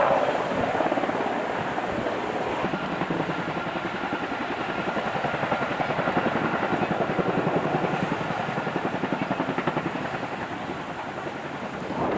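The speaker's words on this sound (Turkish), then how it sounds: "Uçaklar o tarafa koyuldu." A firefighting helicopter over a wildfire in Datça, Turkey roars steadily close by, its rotor thumping rhythmically over a constant wash of engine noise and wind for the whole stretch.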